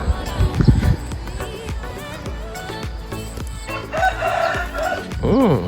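A rooster crows loudly nearby, its call rising and falling, amid clucking fowl and busy farmyard noise.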